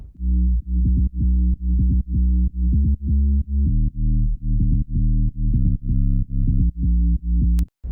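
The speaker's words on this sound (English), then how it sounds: "Sub bass with effect sounds like this." A deep, pulsing bass house synth sub bass with effects throbs in a steady repeating rhythm, each note ducking and swelling, loud and continuous with no voices.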